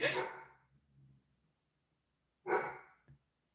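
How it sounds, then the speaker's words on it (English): Two short bursts of dog barking a couple of seconds apart, fairly close and indoors, with a faint low hum between them and no other sound. "My dogs are barking."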